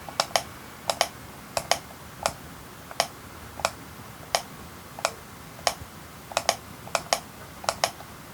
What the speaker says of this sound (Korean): 저는 마우스로 모스 신호를 보내보겠습니다.